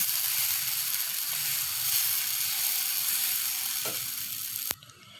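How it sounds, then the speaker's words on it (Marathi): Dosa batter sizzling on a hot pan, a steady close hiss and crackle of frying that goes on for about five seconds before a sharp click cuts it down to quiet. "आता आपण बनवत आहोत डोसा"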